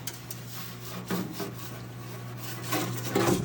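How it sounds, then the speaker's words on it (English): Continuous scrubbing and rubbing of greasy old Columbian #206 vise parts being cleaned in a parts washer, a steady swishing rasp that swells louder near the end, over a low constant machine hum. "So it's cleaning up really well in the parts washer."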